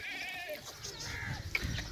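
A goat bleats briefly at close range on a goat farm, a short nasal cry amid quiet farmyard background sound.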